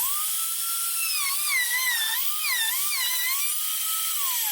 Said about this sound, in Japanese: これでルーターで円の形にカットします。